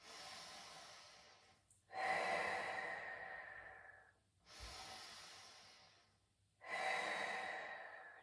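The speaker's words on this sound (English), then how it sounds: "breathe in as you pull back, breathe out as you release" Three slow, audible breaths pass close to the mic during a Pilates neck stretch, each a long airy exhale-like rush separated by short pauses.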